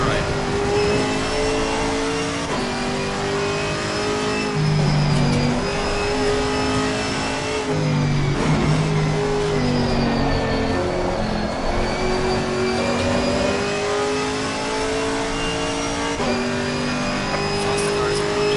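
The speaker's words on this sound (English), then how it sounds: "Faster cars approaching. Watch out." Race cars roar around Donington in the ACC racing game during a league round, with continuous loud engine drone, gear shifts and rising revs as cars pass close by, sustained throughout.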